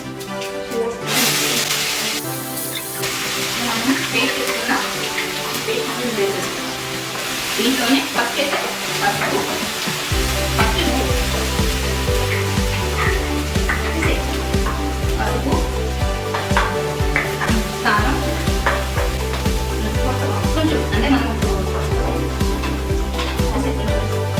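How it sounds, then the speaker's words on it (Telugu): Cumin seeds hit hot oil in a pan while fish curry is cooked, giving a loud, steady sizzle with stirring scrapes that lasts about twenty-four seconds, and a voice can be heard over it in places. "ఈ ఆయిల్లోనే ఇప్పుడు మనం జీలకర్ర వేసేసుకుందాం"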